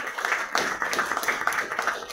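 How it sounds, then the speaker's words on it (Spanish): An audience claps for a man just introduced at a book presentation held at Club Loreto, the applause steady and fairly close with no voices over it. "Un fuerte aplauso para él."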